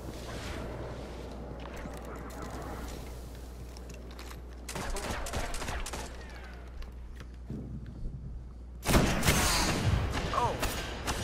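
Sniper rifle fire in the video game Destiny: sharp, loud shots with echoing tails, with a heavier burst of blasts near the end, over a low steady game hum.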